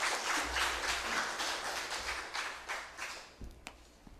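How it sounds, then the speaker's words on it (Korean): A church congregation claps for a pastor stepping up at a tenth-anniversary worship service: steady, dense applause from a large crowd, fading out near the end with a few scattered last claps. "우리 김병주 목사님 나올 때, 우리 또 박수로,"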